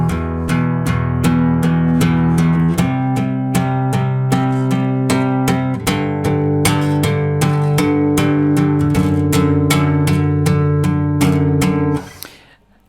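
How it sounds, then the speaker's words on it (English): Distorted electric guitar playing the intro riff of a song, steady loud downstroke chords at full speed for about twelve seconds, ending abruptly, no talking. "the next thing that happens is we get to the distorted guitar introduction,"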